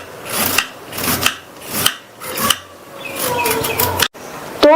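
A medium-sized carrot being peeled with a peeler: a run of rhythmic rasping scrapes, about seven strokes, close and clear, with a brief clatter near the end.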